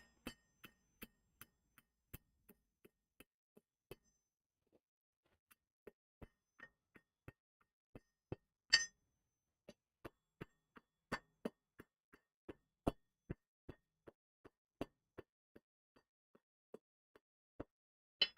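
A hammer strikes hot metal on an anvil in a smithy, a long run of faint, sharp metallic taps in an irregular rhythm with occasional brief gaps and one heavier blow.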